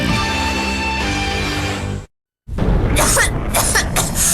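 Several sharp coughs burst out in quick succession in a cold-medicine commercial, loud and close, following a stretch of music and a brief silence.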